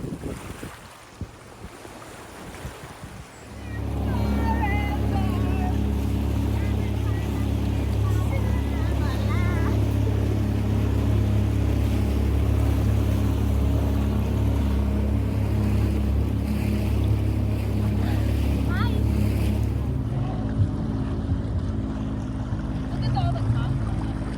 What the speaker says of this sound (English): out for a dinghy ride